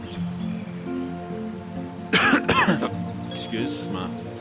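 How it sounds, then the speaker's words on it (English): A few harsh, close coughs burst out in quick succession, then a couple of softer throat-clearing coughs follow against a quiet background. "Excuse my COVID cough."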